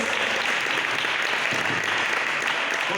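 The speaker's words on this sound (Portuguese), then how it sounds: "Você pode aplaudir aquele que te deu coração daqui essa noite." Steady, dense applause from a congregation at a church service, loud and continuous throughout.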